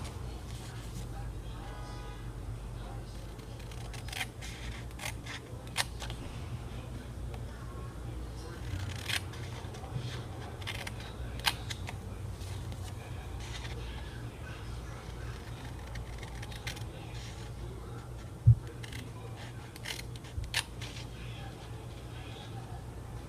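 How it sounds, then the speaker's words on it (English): Scissors snip through cardstock along scored fold lines in a series of short, close, crisp cuts, each clip sharp and brief over a quiet background. "we're just going to finish up cutting along each side of that score"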